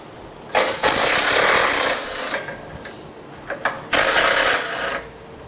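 A 13mm socket tool removing the bumper brace bolts on a 2011 Chevrolet HHR: several loud, close ratcheting or spinning bursts separated by short pauses, with no voice.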